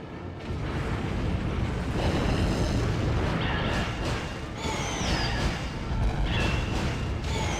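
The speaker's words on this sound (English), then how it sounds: "I was unaware that I just do explosions by default." Explosions in the video game ARK Ascended, a run of loud, dense booming blasts that roll on continuously with scattered bright crackling and whistling effects layered over the rumble.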